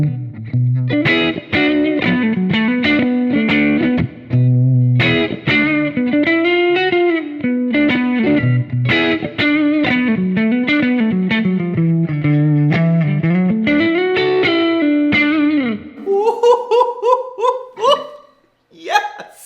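Electric guitar played through a Kemper Kab speaker with distortion, evoking a 1966 Pro Reverb with Oxford speakers: strummed chords and single-note lines in an uneven rhythm, close and loud, ending in sharp staccato hits.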